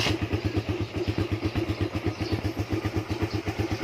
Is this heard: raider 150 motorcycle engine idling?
yes